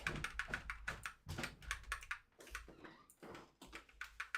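Quick irregular clatter of computer keyboard keys typing, close and fairly faint, in short runs with brief pauses and no voices.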